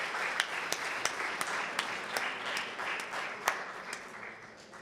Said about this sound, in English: We'll receive them with a warm applause.